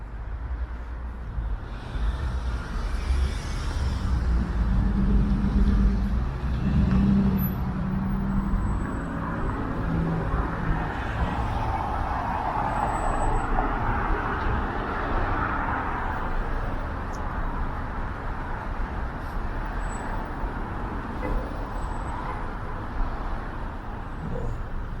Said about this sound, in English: The traffic never lets up here, that's for sure.